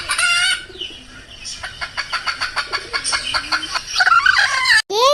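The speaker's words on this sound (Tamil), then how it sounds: "சரோஜாக்கா, அங்க பாரு உன் கோழிய." A hen clucks in a quick, rhythmic series of sharp calls at close range, opening with a louder squawk and closing with agitated cackling, amid scattered background noise on a Tamil village homestead.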